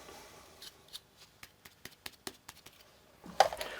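A cheap Dollar Tree knife is pulled through a Chef's Choice Model 110 sharpener, giving a run of about a dozen short, sharp scraping clicks in quick succession, close and fairly quiet.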